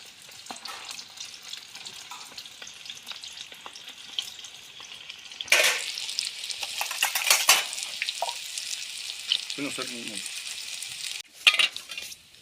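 Bhajiya, including methi gota fritters, frying in groundnut oil at an outdoor farm cooking spot, a steady close sizzle with bursts of louder crackle and clinks of utensils against the pan.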